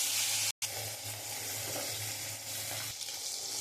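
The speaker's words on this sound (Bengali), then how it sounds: "কড়াই তেলটা গরম হয়ে গেছে, এবার আমি মাছটা দিয়ে দেবো।" Katla fish fries in hot oil in a wok, giving a dense, steady close-up sizzle that runs throughout with only a momentary cut, and no one speaks.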